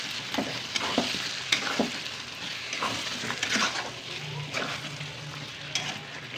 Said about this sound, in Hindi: आप मसाला को अच्छे से भून लें